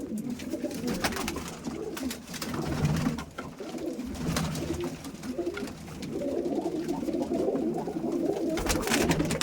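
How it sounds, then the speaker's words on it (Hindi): Pigeons coo in soft, low, repeated calls against a noisy, rustling background, with no one talking. "ये कबरा कबूतर है"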